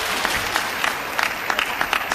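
Applause ripples through the crowd at a table tennis match in the Japan Open final between Zhang Jike and Harimoto, a steady patter of clapping with scattered sharper claps across the short stretch, no voices over it.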